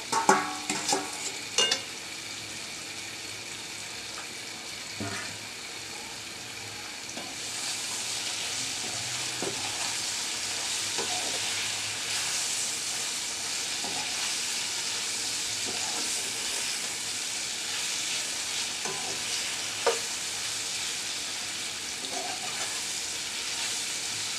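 Bitter gourd and fried sesame stir-frying in a pan over medium heat, with a steady broadband sizzle that swells after the first few seconds and scattered scraping clicks from stirring. No one speaks.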